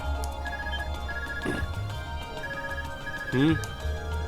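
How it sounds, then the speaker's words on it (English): An ARCUS communicator rings in the Trails of Cold Steel video game, a short melodic ringtone chirping in repeated bursts amid game music and background ambience, with voices talking nearby. "Is that your ARCUS ringing?"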